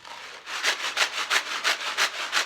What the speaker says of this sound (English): Here's another box of macaroni.